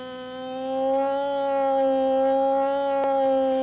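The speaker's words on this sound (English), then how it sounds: "There's clearly some sort of a resonance." A loudspeaker drives a steady harmonic-rich tone into an open-ended air tube, the strong resonant buzz holding a constant pitch and swelling slightly in loudness, with a brief click near the end.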